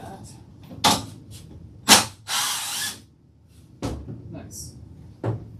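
A power drill backing out screws from a fixture in short bursts, with several separate whirs and clicks spread across the stretch amid quiet handling noise.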